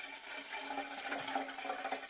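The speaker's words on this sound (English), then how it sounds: "in the name of God, I place the blessed water" Water pours into a kettle in a quiet, continuous splashing trickle lasting a couple of seconds, with no talking.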